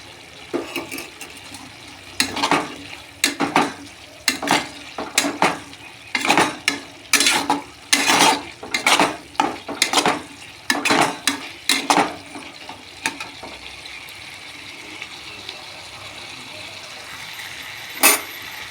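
Papaya curry stirred in a pan after rice flour paste is added, a series of wet scraping and slapping strokes in an irregular rhythm, close and fairly loud, then settling to a quieter simmer.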